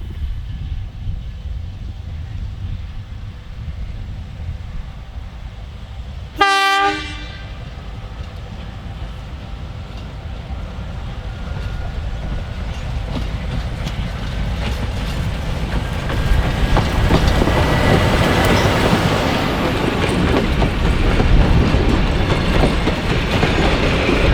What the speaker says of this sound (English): the train departs Warwick for the 4-hour trip south